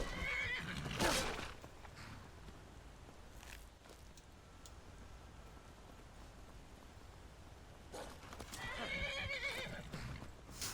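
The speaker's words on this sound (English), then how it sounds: "That horse is fantastic for climbing." A horse in the video game Skyrim whinnies twice, a loud neigh near the start and another near the end, with soft hoof clip-clops and faint rain-like hiss in between.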